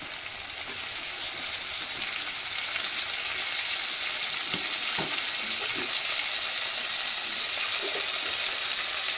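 Tomatoes fry with turmeric in a pan, giving a steady, close hiss of sizzling oil with a few soft stirring knocks partway through.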